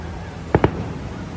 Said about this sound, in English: Disneyland shooting off their fireworks.